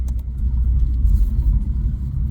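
Car engine breathing through a newly installed Apex'i non-resonated exhaust, a deep, steady low rumble close up with slight pulsing throughout and no talking.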